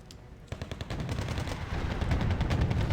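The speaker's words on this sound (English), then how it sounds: "More mortar fire" Mortar fire in the wargame Wargame Red Dragon: a rapid burst of distant-sounding explosive thumps and crackling reports rolling over a steady rumble of battle, growing denser and louder toward the end, with no voices.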